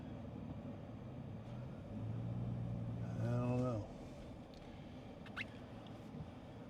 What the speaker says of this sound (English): So we're going to get out of his way because he's got a big old truck.